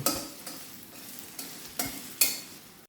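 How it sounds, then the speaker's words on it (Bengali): Two tablespoons of chopped ginger fry in oil for a pickle, a close crackling sizzle broken by several sharp scraping stirs of a spoon against the pan at irregular intervals. "আমি এখানে আদা কুচি নিয়েছি 2 টেবিল চামচ। এটা আমি তেলের সাথে একটু ভেজে নেব।"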